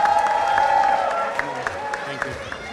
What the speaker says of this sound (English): Give it a big round of applause again.